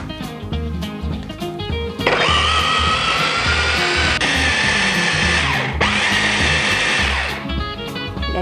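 An electric blender grinds peri peri sauce ingredients with vinegar and oil, a loud steady whirring motor that starts after a couple of seconds of background music, dips briefly in the middle and runs on until the end.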